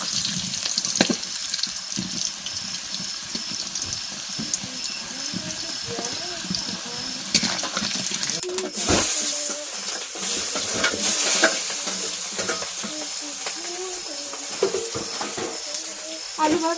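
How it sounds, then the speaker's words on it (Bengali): Potatoes fry in oil seasoned with turmeric and salt, a steady sizzle under spatula stirring and scraping, with clinks and some splashing water close by. "আলু ভাজাটা হয়ে গিয়েছে"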